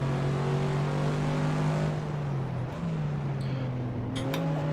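A BMW Z4 race car in Assetto Corsa drones past with a steady engine note that sags slightly midway and then climbs again, loud and close, with no voices.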